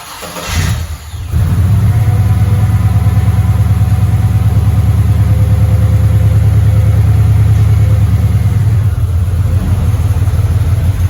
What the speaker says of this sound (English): let me go ahead and turn the Impala on and back it out of the garage